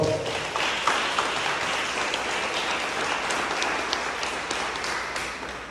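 Church congregation applauding loudly, a thick sustained roar of clapping from a large crowd with a few sharper individual claps standing out, running nearly six seconds without talk.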